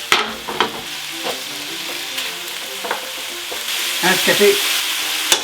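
Sausage is broken up and turned with a spatula as it fries in a pan, producing a soft steady sizzle with scraping strokes that grows a little louder toward the end, and a brief spoken word.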